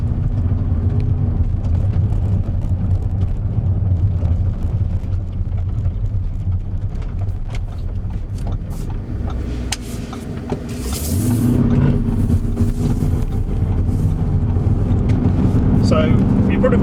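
Audi SQ7 4.0 V8 TDI driving along a road, a steady close low engine and road rumble with wind noise throughout, swelling louder near the end as it accelerates; a voice talks over it.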